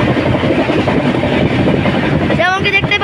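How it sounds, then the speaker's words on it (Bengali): Dhauli Express from Shalimar to Puri running at high speed near Lakshmikanta Road, a steady loud broadband roar of wheels and carriage rumble, with a voice speaking briefly near the end. "আমাদের ট্রেন এখন তার দানবের মতো গতি নিয়ে ছুটে চলেছে লক্ষ্মীকান্ত রোডের পথে"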